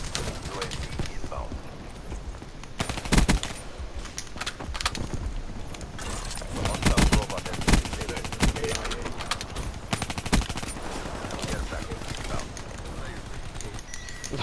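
Sentry gun in Black Ops 3 firing amid dense multiplayer gunfire, continuous rapid rattling bursts over fourteen seconds, with excited voices talking over the shooting.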